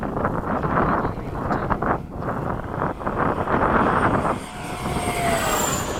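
An E-flite Havoc RC jet running a Gooniac balanced ducted fan passes overhead at a flying field, its airy roar rising and falling with gusts of wind noise, then a high whine appears as it pulls away.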